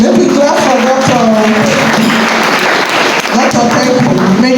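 An audience claps for Dr. Gijo after a talk on climate change, a steady, lively burst of applause with a voice speaking over it.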